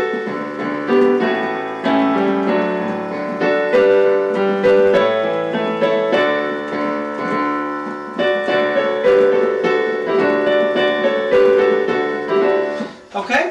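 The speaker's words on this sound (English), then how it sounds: "And this is part 1 to Joy to the World." A piano plays Joy to the World, a Christmas carol, as a continuous close melody with chords and a steady rhythm of struck notes, with no talking.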